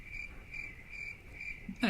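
Crickets chirp in steady, evenly spaced pulses as a short sound bite, fairly quiet and clear, ending with a brief bump of other noise.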